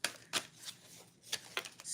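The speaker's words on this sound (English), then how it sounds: "So I'm going to shuffle them." A deck of tarot cards being shuffled close by, with quiet riffling bursts and soft flicks in an irregular rhythm, no talking.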